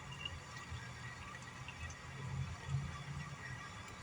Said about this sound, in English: Let me just pour this coffee here real quick.